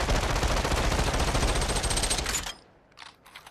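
Automatic gunfire in the VR shooter Population One: one loud, close, rapid burst rattles for about two and a half seconds and stops, followed by a couple of faint short bursts.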